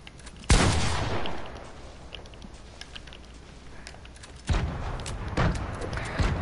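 Grenades explode close by in a video game: a loud, sharp blast that tails off into rumble, a quieter stretch, then a second heavy burst with crackling debris.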